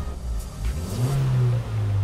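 A Suzuki Ertiga engine revs up under throttle, the note climbing and holding at a steady mid pitch from inside the car, with no talking.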